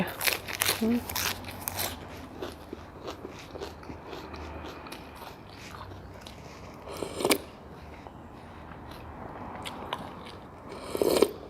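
Small rice noodles with crispy fried garlic and pork rinds being eaten up close, with crunchy bites and chewing scrapes clustered at the start, then sparser crunches over a steady background hiss.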